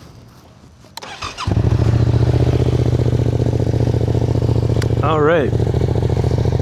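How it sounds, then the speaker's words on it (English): A 2025 Yamaha MT-07 with a quickshifter starts up after a few clicks and settles into a loud, steady, close twin-cylinder idle with a brief revving blip near the end, while someone speaks a few words over it. "I'm gonna go for a ride and I'll chat a little bit about it while I'm riding. You can kind of hear how it sounds."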